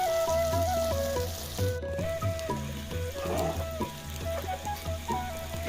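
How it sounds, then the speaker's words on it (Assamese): Chicken pieces sizzling as they cook in a pan, a steady close crackle with scattered pops over a constant background drone. "মাংস এটা আৱাজ আহে ফুটুক ফুটুককৈ মানে তেতিয়া গম পোৱা যায় যে মাংসটো ভালদৰে সিজিছে"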